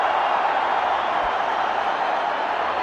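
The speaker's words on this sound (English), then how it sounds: "Listen to the crowd." Cricket stadium crowd at a PSL match in Karachi roaring after a no ball, a loud continuous wall of massed voices and noise with no break.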